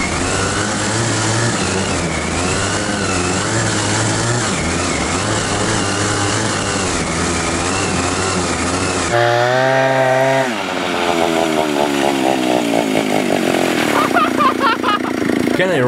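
A homemade snowmobile built from a sleigh and driven by a chainsaw engine roars loudly and steadily up close. The engine tone shifts partway through, and voices can be heard alongside it.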